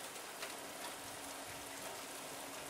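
Heavy storm rain pours steadily as a close, even hiss with no breaks, without voices.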